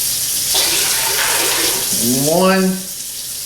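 Water runs from a tap into a container while beets are being pickled, giving a steady rushing splash that rises in pitch as it fills, with a person's voice over it.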